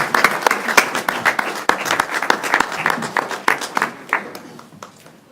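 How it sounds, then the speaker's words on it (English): Board members and attendees at a monthly board meeting applaud, with distinct individual claps at first that blend into an uneven patter and then taper off to scattered final claps. "another round of applause"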